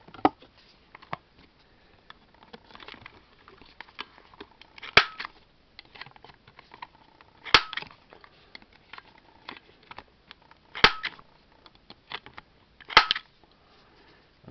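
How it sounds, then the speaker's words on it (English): Four sharp, loud snaps at roughly even spacing as a Cutter Pro corner rounder punches the pointy corners off cards, with faint handling rustle between the cuts. "I have to use my Cutter Pro rounder cutter to round them, which I'll do right now."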